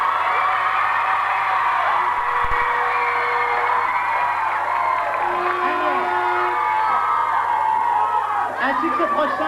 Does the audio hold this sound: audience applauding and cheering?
yes